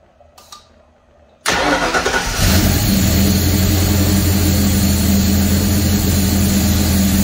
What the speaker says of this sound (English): So I'm going to start up the motor now and get it idling.